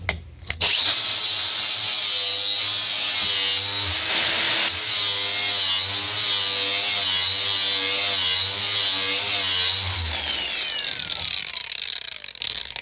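A GSTP sharpener on a grinder bites into a lawn mower blade with a loud, harsh metallic grinding whine. It runs steadily for about ten seconds with a brief dip partway through, then the motor spins down and trails off.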